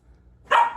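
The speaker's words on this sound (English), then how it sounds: "You can hear my puppy barking in the background" A puppy gives a single short, high bark somewhere in the background of a home, brief and fairly clear against near silence.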